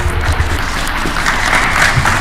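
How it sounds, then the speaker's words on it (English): Audience applause at a live scary-stories show, a steady wash of clapping from a crowd, continuous and fairly loud throughout the brief moment. "A round of applause."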